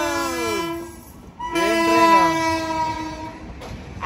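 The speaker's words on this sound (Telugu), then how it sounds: "అహ్మదాబాద్ నుంచి పాట్నా అయితే వెళ్తుంది ఆ ట్రైన్." An Ahmedabad–Patna express train passes close by, sounding a loud, sustained multi-tone horn whose pitch drops as it goes by, sounding again after a brief break, with rumbling rail noise underneath.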